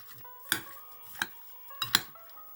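Eggplant being mixed with oil, vinegar, dill and parsley in a bowl: three distinct clinks of a utensil against the dish with soft stirring between them, close and quiet.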